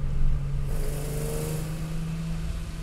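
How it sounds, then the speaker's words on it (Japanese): A Nissan Z 432 engine runs with a steady low drone and gear-train whine, a brief rising rev swelling in the middle before settling back to an even idle, heard from close by. "ギアトレーンの音ですよね。"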